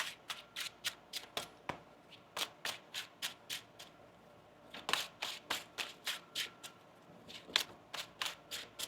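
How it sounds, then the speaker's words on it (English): Tarot cards are shuffled over and over in a steady riffling rhythm, a run of quick crisp flutters close by with brief pauses between. "We'll get one more shuffle here for you"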